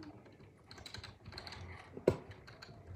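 Computer keyboard keys are pressed in quick, uneven runs of light clicks during a game of Roblox, ending in one sharper, louder tap near the close.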